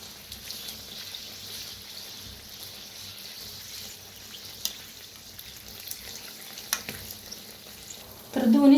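Kachori deep-fry in oil with a continuous soft sizzle and bubbling, punctuated by occasional light clinks of a utensil, and a brief louder clatter at the very end.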